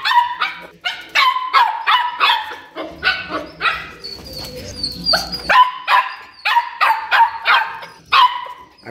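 A small dog barks rapidly and loudly close by in a long series of high, yappy barks, with a brief pause filled by rustling and low rumble midway.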